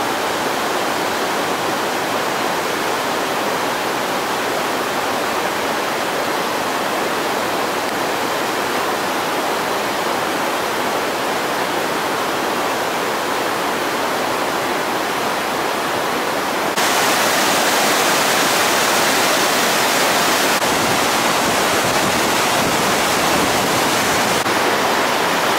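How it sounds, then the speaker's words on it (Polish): Upper part of Latefossen waterfall in Norway, a loud, continuous rushing roar of falling water that holds steady and grows even louder partway through. "Jeszcze górna część wodospadu."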